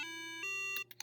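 BeepBox square-wave synth playing a short rhythm pattern: bright buzzy tones with a sustained low note, several clipped beeps in a quick clapped-style rhythm, clear and alone.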